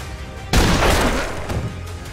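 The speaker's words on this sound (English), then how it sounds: "But Wyatt comes and shoots him before he can shoot." A single loud gunshot in a western film scene bursts out sharply and then decays into a rumbling echo, with faint background sound before it.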